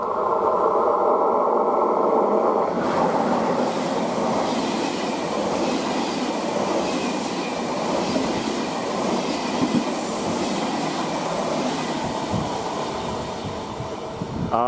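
A freight train hauled by two locomotives rolls through Kufstein station, a loud, steady rumble of wheels and wagons with a shift in tone a few seconds in and occasional squeals over the passage.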